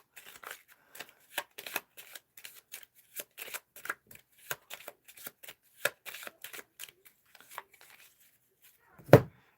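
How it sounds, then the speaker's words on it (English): A discard pile of board game cards being shuffled by hand, heard as a long series of quick, crisp riffling bursts in a steady rhythm, close and fairly quiet, ending with one louder knock. "we're going to shuffle up the hazard discard pile"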